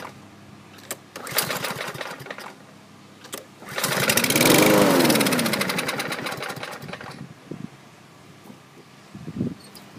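Kohler Courage engine on an old Craftsman/Murray riding mower cranking, a starter whir that catches and fires into a loud rising roar for a few seconds before dying back to scattered knocks.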